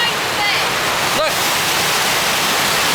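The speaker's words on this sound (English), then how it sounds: "the waterfall" A waterfall roars as a loud, steady broadband rush that fills the whole clip, close by and unbroken.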